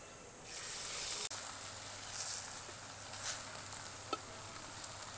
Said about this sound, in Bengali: ঠিক একইভাবে বাকি পাতাগুলি পরপর ভেজে নেব।